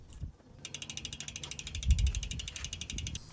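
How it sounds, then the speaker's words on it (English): A Trek Domane bicycle chain slowly turned through a shop towel gives a steady run of fine, evenly spaced ratcheting clicks for most of the clip, close and clear, with no talking. "I'll wrap a shop towel around the chain and slowly turn it to remove all the excess oil from"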